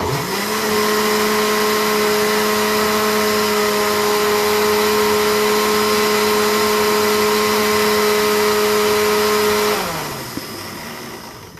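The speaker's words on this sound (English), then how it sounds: "my blender's not very high power" A low-power blender motor whirs loudly and steadily for about ten seconds, its pitch holding as it grinds an icee into slush, then winds down and stops near the end.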